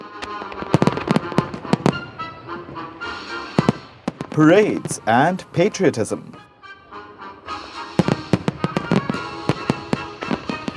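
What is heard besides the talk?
fireworks exploding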